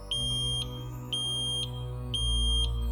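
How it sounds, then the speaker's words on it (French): A household smoke detector emits three evenly spaced high-pitched beeps, each about half a second long, over a low steady background hum, quiet and without talking. "C'est le bruit du détecteur de fumée."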